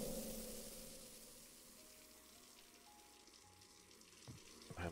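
Liquid pours into a fermentation container in the beer brewing simulator game Brewmaster, a soft steady watery trickle that fades slightly and ends with a couple of small clunks.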